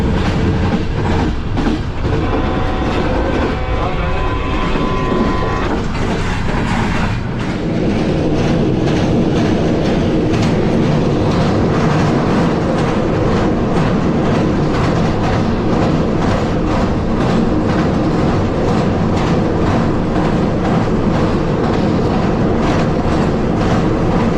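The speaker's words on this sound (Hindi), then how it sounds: "ट्रेन अभी हमारी पास थ्रू हो रही है गुजरात रेलवे स्टेशन पे" A train passes through Gujrat railway station, heard from inside the guard compartment as a loud, continuous rumble with rhythmic clickety-clack of wheels on rail joints, an early faint squeal fading into dense, steady rattling.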